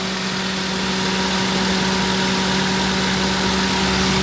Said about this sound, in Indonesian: kondisi mesin stabil, tidak ada masalah